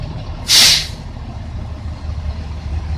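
A sharp hiss of air-brake release from the Georgetown Fire Department's engine number 2 bursts loudly for about half a second over a low idling engine rumble outdoors.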